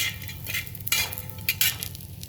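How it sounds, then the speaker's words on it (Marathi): Dal roasts in oil over a low gas flame while a spoon stirs it, giving a steady soft sizzle broken by repeated scraping clinks of the utensil against the pan. "आता मी डाळ टाकलेली आहे ती डाळ पण आपल्याला बारीक गॅसवर भाजून घ्यायची आहे आणि गुलाबी परतून घ्यायची आहे"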